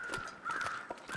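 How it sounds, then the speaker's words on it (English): Crows cawing in the survival game The Long Dark, several rapid harsh caws in quick succession, fairly close and faint against a quiet outdoor backdrop. "Got crows there."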